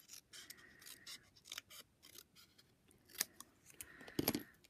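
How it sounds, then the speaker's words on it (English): Paper snips cutting through cardstock during a stamping and paper-piecing craft project: a series of close, crisp snips in quick bursts, with a louder cluster of cuts near the end. "I'm just going to take my paper snips."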